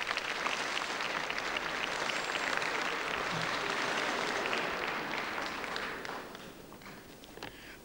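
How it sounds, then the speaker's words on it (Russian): Loud, sustained applause from a large audience in a Moscow television studio at Ostankino, continuous clapping filling the room before slowly thinning toward the end. "Вы кому аплодируете, мне или режиссеру, скажите?"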